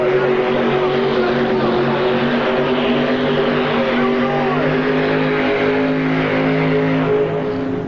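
A pulling tractor roars at a 1986 indoor tractor pull as its wheels spin off the line. The engine drones loud, steady and close, with harmonic tones throughout, and an announcer talks over it.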